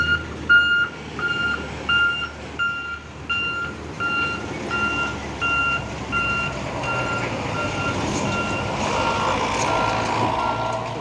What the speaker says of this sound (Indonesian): di belakang ada 2 unit truk apa itu, Hino